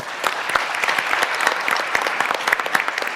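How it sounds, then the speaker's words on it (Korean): An audience at a Seoul digital bio city conference breaks into sustained applause at the close of a panel discussion: dense, steady clapping from many hands, fairly close and even, with no talk over it. "가장 끝까지 여러분 남아주신 여러분들께 가장 큰 박수를 보내서 토론을 마무리하겠습니다"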